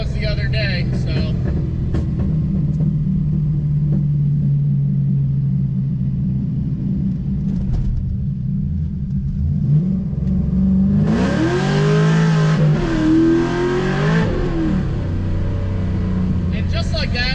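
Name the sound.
car engine revving and accelerating hard through second gear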